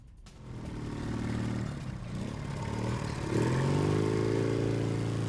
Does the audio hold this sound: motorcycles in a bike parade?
yes